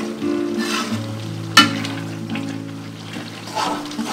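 Goat tripe sizzles steadily in hot oil in a pan once the water has cooked off, a loud close frying hiss with a sharp clatter of a utensil partway through.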